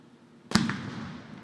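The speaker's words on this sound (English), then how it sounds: "The second explosion has been sounded, ending the 2 minutes of silence." A single ceremonial explosion sounded to end two minutes of silence at a National Day of Remembrance parade in Trinidad and Tobago: one sharp, distant boom after quiet, followed by a rolling echo that slowly fades.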